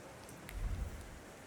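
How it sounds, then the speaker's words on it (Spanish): Rain falls in the video game The Thaumaturge, a faint, steady hiss of rainfall with a soft low rumble swelling briefly in the middle. "¿Por qué está lloviendo aquí?"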